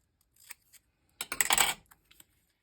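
Paper pieces cut with scissors for a nine-patch star quilt block card: a few faint snips, then a denser burst of close crisp snipping and rustling lasting about half a second, followed by a couple of light ticks.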